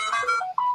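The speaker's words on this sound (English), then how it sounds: "I'm going to silence my phone because apparently I'm popular." A phone ringtone sounds nearby in a short, clear burst of bright electronic tones, one melodic phrase alone without talk.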